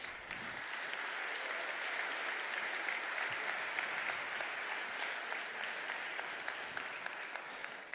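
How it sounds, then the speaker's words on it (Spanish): Sustained audience applause fills the hall at a cybersecurity conference, a dense even wash of many hands clapping steadily for the full stretch with no voices on top. "Y creo que eso merece un aplauso"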